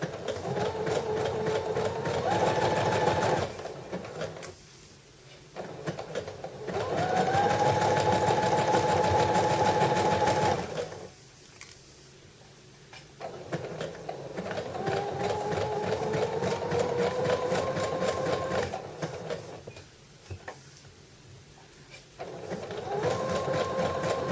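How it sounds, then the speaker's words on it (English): A sewing machine stitches the curved neckline of a knit sweater, its fast whirring motor running loud and close in long bursts separated by short pauses. "I'm going to just support it gently around the curve as I sew"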